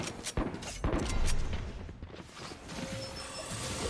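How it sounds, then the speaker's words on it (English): A weapon reloading in the video game Valorant, a quick sequence of mechanical clicks and clacks from the magazine and action, close and crisp over a low game-ambience bed. "Reloading."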